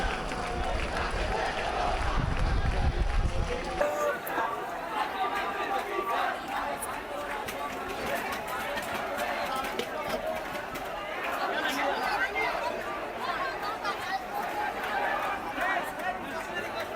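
Crowd of protesting students with sticks and placards gathered on a highway, a dense murmur of many voices and shuffling movement, with a low rumbling burst at the start and scattered louder shouts throughout.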